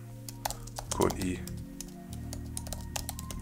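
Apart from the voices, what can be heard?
typing on a computer keyboard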